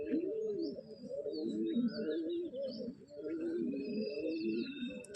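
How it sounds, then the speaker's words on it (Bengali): A restless male pigeon held in the hand coos close by in repeated low, throaty rolls, with thin chirps from other birds in the background. "হাতে ধরে রাখা যাচ্ছে না পায়রা, এত ছটপটে।"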